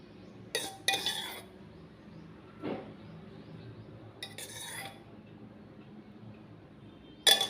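Ingredients for a mushroom curry with fenugreek leaves and yogurt being stirred in a pot, heard as a few separate metallic clinks and scrapes of a utensil against the pot, sparse and fairly quiet with pauses between.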